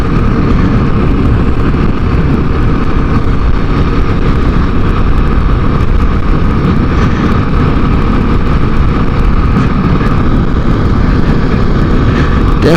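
A Kawasaki KLX 300 dirt bike's engine drones loud and steady throughout a chilly Christmas Eve ride, mixed with constant wind roar and no pauses.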